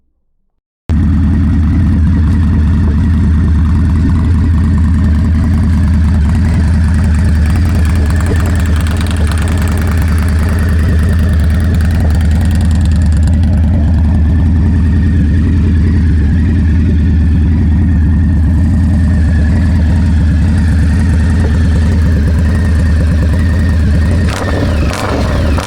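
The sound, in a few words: Indian Scout Bobber idling with Freedom Performance 2-into-1 exhaust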